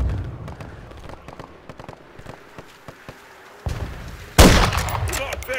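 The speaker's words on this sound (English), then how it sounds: "Taking enemy fire." Gunfire in the Call of Duty: Modern Warfare III campaign, snowy tundra mill setting: scattered sharp shots crackle under a low rumble, then a loud blast bursts in near the end, with bursts continuing after it.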